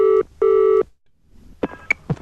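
Telephone call: two long steady ringback tones, then a pause and several short dialing beeps and clicks, loud and close on the line, with no talk.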